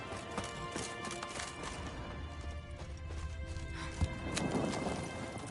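Horse hooves clip-clop in an irregular patter in the video game The Witcher 3, moderately close, over a busy ambient background with a sharp knock partway through.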